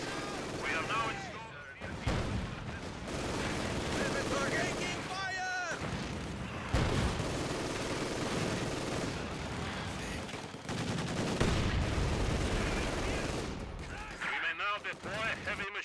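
A dense Company of Heroes battle with the Volkssturm roars with continuous machine gun fire, booming artillery and explosions, loud and unrelenting throughout, while soldiers' voices shout over the din.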